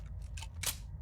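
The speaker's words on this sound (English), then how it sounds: "Oh no, I reloaded." Gun reload in Resident Evil 4, a short mechanical clatter of bursts with a sharp metallic snap near the end, close and clear over a steady low game hum.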